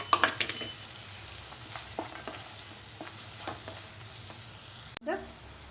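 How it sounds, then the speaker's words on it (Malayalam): Green peas frying and being stirred in a pan for bottle gourd curry, with a loud burst of sizzling and clatter at the start easing into a steady soft crackle and occasional stirring scrapes, then a sharp clack near the end. "ഇനി നമുക്ക് ഗ്രീൻ പീസ് അതിലേക്ക് ഇട്ട് കൊടുക്കാം."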